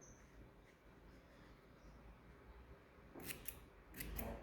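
Scissors snip yarn for an amigurumi Santa doll in a couple of quick, close clicks near the end, after a stretch of faint room hush; no talking.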